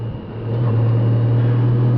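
A car engine pulls strongly after an upshift into second gear on a twisting mountain road, VA Route 250 over Shaw's Ridge and Bullpasture Mountain. A loud, steady low drone builds and holds close by for about two seconds.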